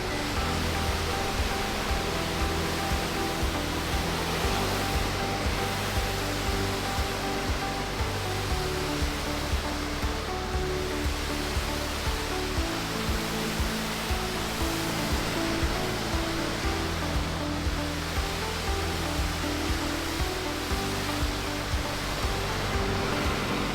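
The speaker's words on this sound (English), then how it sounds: "now we're just going to blow all the debris back off the driveway because we don't want it getting caught up in the surface cleaner" A blower clears debris off a paver driveway, a loud, steady broadband roar that runs unbroken and close throughout, with no voices.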